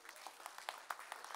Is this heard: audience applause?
yes